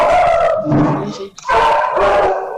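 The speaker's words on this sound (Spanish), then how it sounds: "Ya está ladrando el perrito." A small dog barks loudly and close by, with a few sharp, yippy bursts in two clusters split by a brief pause.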